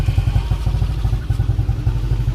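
A motorcycle engine idles just after an idle speed control reset, a steady low throbbing with an uneven, surging rhythm as the idle rises and falls, close and fairly loud with no voices.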